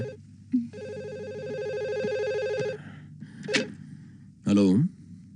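A telephone rings indoors in the evening, a sustained electronic ring tone in bursts, interrupted by a sharp gasp and a brief vocal outburst, close and clear.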